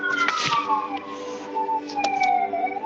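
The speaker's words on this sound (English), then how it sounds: "I'm getting sirens noise." A wailing siren sweeps slowly downward in pitch, moderately loud and somewhat distant, with a few brief clicks and noises overlapping it.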